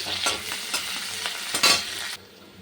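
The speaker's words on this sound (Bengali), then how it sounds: "এই দেখো পেঁয়াজ কুচি আর রসুন কুচিটা রেখেছিলাম ওটা দিয়ে দিলাম" Chopped onion, garlic and curry leaves hit hot oil in a pan and fry with a bright, steady sizzle, punctuated by a few stirring scrapes and a louder crackling burst before it cuts off.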